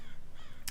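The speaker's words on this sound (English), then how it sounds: "There's a really loud crow outside." A crow caws loudly outside, a harsh repeated rasping call heard close and clear through the short moment.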